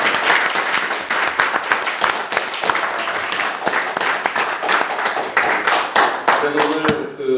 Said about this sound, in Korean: 오늘 서른 국회의원 그리고 오영환 국회의원의 새로운 미래 입당식을 큰 박수로 시작하겠습니다.